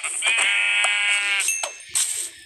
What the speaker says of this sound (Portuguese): Vem cá, ovelhas.